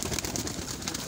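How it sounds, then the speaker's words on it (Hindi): Pigeons coo softly and continuously inside a home pigeon house, a low steady murmur close by with faint scratchy background noise. "ये चूहा कबूतर है"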